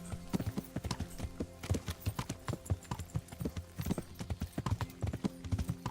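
Horse hooves clip-clopping steadily in the medieval game Kingdom Come: Deliverance, a quick, close rhythmic beat of a ridden horse over a low musical or ambient bed, with no talk.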